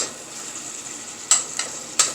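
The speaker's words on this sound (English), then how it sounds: "you just want to take a couple minutes and cook it up as you would any other bacon" Bacon cut into small pieces frying on high heat in a pan, a steady close hiss and sizzle with a few sharp pops and spatters near the end.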